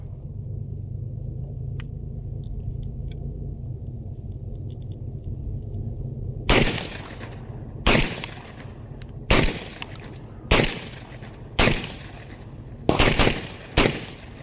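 Shotgun blasts from a Mac 1014 fired outdoors, about seven sharp, loud reports spaced roughly a second apart after a stretch of low rumbling background, the last two in quick succession.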